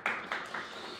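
Audience applause at a policy forum on relocating the Suwon military airport, faint and distant, with three short swells of clapping fading within a second.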